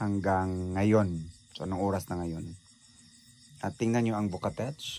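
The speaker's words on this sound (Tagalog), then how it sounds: "huni ng mga crickets" Crickets chirp in a high, steady, faint drone at night in a rural backyard after rain, running continuously beneath someone talking.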